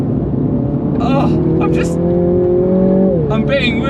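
A Mini GP3 is driven hard from inside the cabin, its engine note rising steadily in pitch as it accelerates, then dropping at a gear change before climbing again, with voices talking over the loud, continuous drone.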